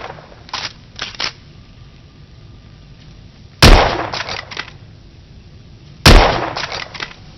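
Gunfire in the video game The Order: 1886: two loud, sharp shots a few seconds apart, each with a ringing decay, preceded by softer mechanical clicks and clatter, no talking.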